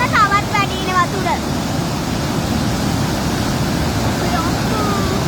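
Heavy overflow from the Randenigala dam makes a steady, loud roar of falling water; a person talks over it at the start and again briefly later.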